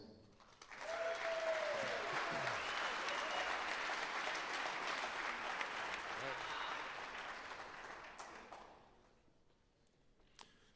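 Sustained audience applause at a high school sports awards ceremony for Athena and Apollo award winners, loud and steady for about eight seconds before tapering off, with a brief voice over the start.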